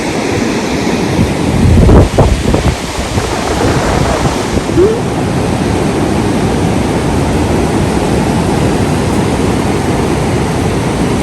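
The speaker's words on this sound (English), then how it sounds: "These waves are crazy. They're so big." Large surf breaking on an overcast beach with surfers out, a steady heavy wash of waves with strong wind buffeting the microphone throughout, one louder gust-like thump early on.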